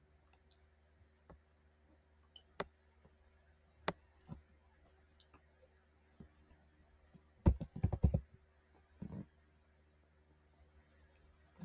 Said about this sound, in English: I'm going to type LinkedIn.